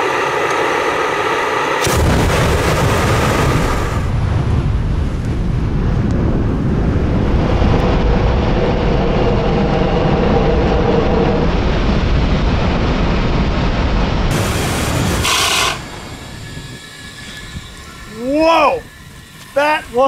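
Flamethrower blasting at a ballistic gel dummy outdoors, a loud roaring whoosh that runs about thirteen seconds with wind buffeting, then cuts off; voices and laughter follow near the end.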